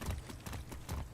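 Horse hooves clip-clop in a video game, a steady rhythmic trot of repeated hoof beats at moderate volume with no talking over them.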